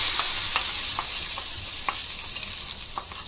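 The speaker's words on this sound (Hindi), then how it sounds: "अभी ये देखो तड़का देंगे और चम्मच मारेंगे" Steady crackling sizzle of hot oil tempering spices, with a few sharp clinks of a spoon against a clay pot, close by and fairly quiet, no voices.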